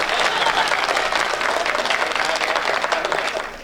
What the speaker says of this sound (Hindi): ताली बजाइए, एनर्जी मिलती है।